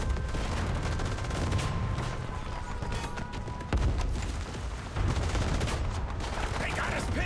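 Dense video-game gunfire from Warpath, a steady barrage of shots and heavy blasts running continuously throughout, loud and close, with faint background voices mixed in.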